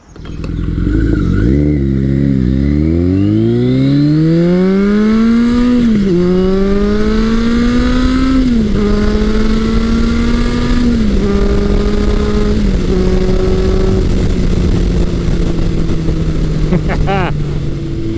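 Vintage 1981 Kawasaki CSR 1000 motorcycle being ridden, its engine loud and close as it revs up through several gear changes with rising and dropping pitch, then settles into a steady cruising drone.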